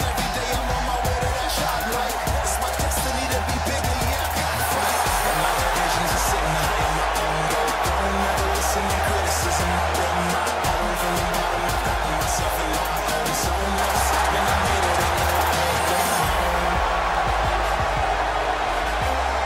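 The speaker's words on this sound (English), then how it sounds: "what about this crowd reaction, guys?" Arena crowd in the WWE 2K18 wrestling game roars continuously before a women's match, a dense, steady wall of cheering with scattered whoops, loud and sustained throughout.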